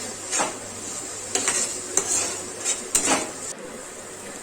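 Spices for egg korma get stirred in a metal pan: repeated clanking scrapes of a spoon against the pan over a bright, steady sizzle, close and fairly loud.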